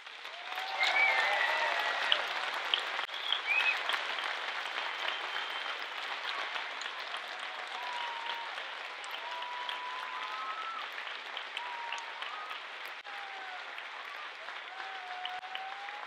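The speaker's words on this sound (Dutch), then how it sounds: "een daverend applaus" Sustained applause from an audience at a school performance, steady broadband clapping that holds for the whole stretch and fades slightly toward the end, with faint melodic tones and voices drifting through underneath.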